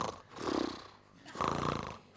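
A voice imitates loud snoring with two long, rasping, rumbling breaths separated by a brief pause, close and fairly loud.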